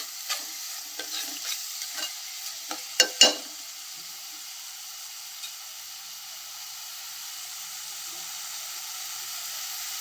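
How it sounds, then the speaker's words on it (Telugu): Chicken fries with mint leaves in a pan, giving a steady close sizzle and hiss. A few scraping stirs and clinks come near the start, then the frying carries on alone. "ఇది కొద్దిగా ఫ్రై అయిన తర్వాత పుదీనా కూడా వేసుకొని ఫ్రై చేసుకోవాలి."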